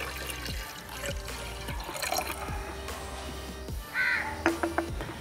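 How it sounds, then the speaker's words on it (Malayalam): Half a litre of water poured into a glass jar for homemade ginger beer: a light liquid trickle and splash, nearly drowned out by a crow cawing repeatedly and loudly in the background. "1/2 ലിറ്റർ ഒരു നല്ല ചില്ലൂപ്പിലേക്ക് ഇതങ്ങനെ ഒഴിക്കുക."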